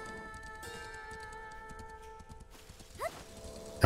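In The Legend of Zelda: Echoes of Wisdom, a horse moves with faint, quick hoofbeats under steady game music, ending in a short animal call.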